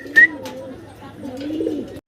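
A big pair of healthy, lively Mukhi pigeons coos softly at close range, a low warbling murmur running nearly continuously, with a brief sharp chirp near the start.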